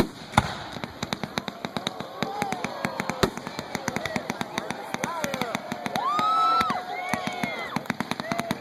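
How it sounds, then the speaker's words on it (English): Fireworks display in Rose City, Michigan, with sharp repeated bangs and crackling bursts heard from a distance, whistling rockets rising near the end, and a crowd murmuring and talking throughout. "They had fireworks."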